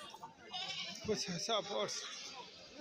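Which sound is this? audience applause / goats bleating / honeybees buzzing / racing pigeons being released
goats bleating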